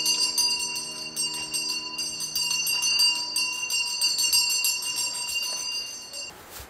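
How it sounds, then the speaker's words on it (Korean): A hand bell rung by a street tofu seller echoes through a hillside alley in Oksu-dong, Seoul, giving a continuous bright ringing that swells and fades before cutting off near the end. "골목길에 울려 퍼지는 종소리."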